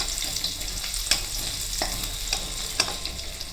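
Dry red chillies and ginger frying in a pan for Bengali moong dal, a continuous bright sizzle with occasional scrapes and knocks as a spoon stirs them, close and steady with no voices.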